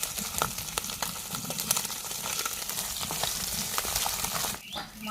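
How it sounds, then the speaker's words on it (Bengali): Small fish frying in a pan as they are stirred, giving a steady sizzle broken by repeated clicks and scrapes, with a brief dip near the end. "আমি এখন মাছটা নেড়ে দেবো।"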